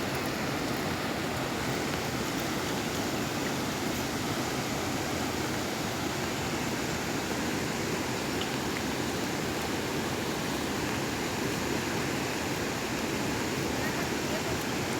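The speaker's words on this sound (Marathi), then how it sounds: "हे बघा नदीचं सुंदर दृश्य नदीचं" A river in a village setting flows in a loud, continuous rushing wash that stays steady and close the whole time, with no clear voices above it.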